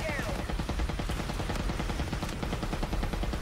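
Light machine gun hip fire in Call of Duty: Black Ops 3, a rapid, steady stream of automatic shots rattling on continuously, loud and dense, with game effects layered over it.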